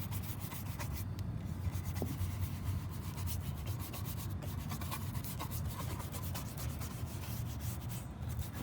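Headlight being scrubbed with baking soda toothpaste, a close continuous rapid rubbing and scratching at a steady pace with no talk.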